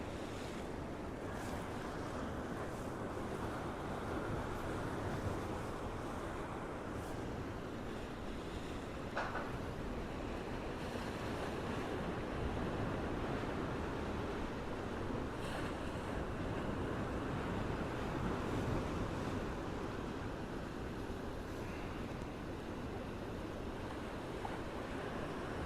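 Ocean waves and surf at the Gold Coast wash in a steady, broad roar with a swell running, mixed with wind noise on the microphone and water spilling over rocks.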